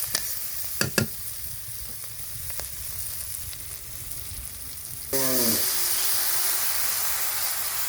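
Water is poured into a pan of cooked-down spice paste in a village kitchen, setting off a sudden loud, sustained sizzling hiss that follows a few clinks and quiet stirring.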